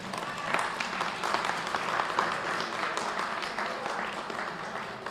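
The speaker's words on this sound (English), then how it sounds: "And you can clap right now." Audience at a 2023 Democratic mayoral candidates forum breaks into applause, a continuous wash of many hands clapping at even loudness for several seconds, with no talking over it.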